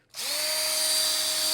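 A small dentist's drill whirs up after a brief silence, a steady high-pitched whine that holds loud and close with no talking.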